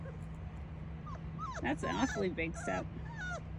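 Saint Bernard puppies whimper and yip in several short, high, wavering cries close by, with a person talking over them and a steady low hum in the background.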